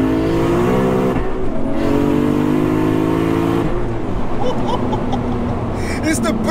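A built 1100bhp turbocharged 2JZ engine in a Lexus pulls hard through the revs in third gear, pitch climbing steadily, then drops off with a shift before building again; loud, close, with faint chatter.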